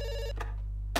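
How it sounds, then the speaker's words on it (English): A phone rings in the video game Dr. Langeskov, The Tiger And The Terribly Cursed Emerald: A Whirlwind Heist: one brief electronic ring tone, then a couple of soft clicks over a constant low hum. "It's ringing."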